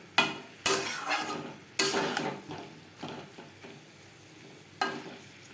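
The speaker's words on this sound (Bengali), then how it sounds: "নারকেলের সাথে ডাটা আরও তিন চার মিনিট মিডিয়াম ফ্লেমে নাড়াচাড়া করব নারকেলের সাথে" Drumstick stems being stirred with coconut and chilli paste in a pan over a medium flame produce several sharp scraping strokes and clinks, with a soft sizzle between them.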